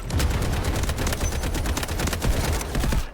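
Rapid automatic gunfire in the PC shooter Delta Force: Hawk Ops, a dense, continuous stream of loud shots with thumping low impacts, heard alone for about three seconds.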